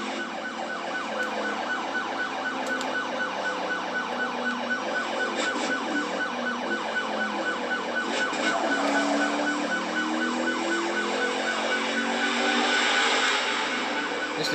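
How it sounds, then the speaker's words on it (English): A police car siren wails continuously in the racing video game Need for Speed Hot Pursuit, loud and unbroken over the steady drone of an engine throughout. "Just need to turn the sound down because of the siren's quite loud."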